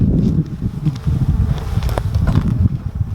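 Honey bees buzz steadily around a hive super in a UK apiary, a dense low droning hum with occasional close fly-by whines, continuous and fairly loud without talk.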